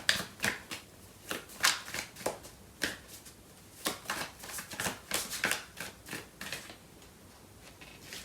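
Tarot cards being shuffled by hand in a quiet room, a steady series of soft riffling bursts and papery slaps at close range, with no voices.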